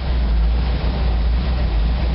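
The air compressor on a 1986 GMC Blue Bird gasoline bus runs as a steady, loud, close mechanical drone with a constant low hum throughout.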